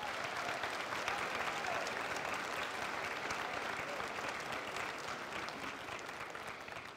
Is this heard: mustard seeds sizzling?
no